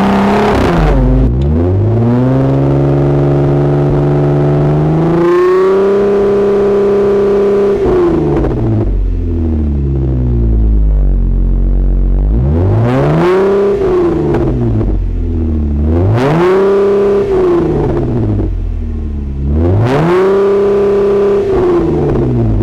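Aftermarket exhaust on a Jeep Wrangler JL Rubicon, revved hard again and again: five loud rising-and-falling engine sweeps with an idle dip between, close and alone with no talk.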